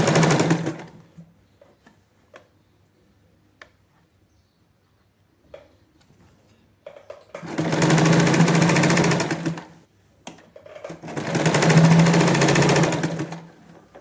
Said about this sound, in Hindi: अब मैं इसके ऊपर प्रॉपर एक स्ट्रेट सिलाई लगा लूंगी।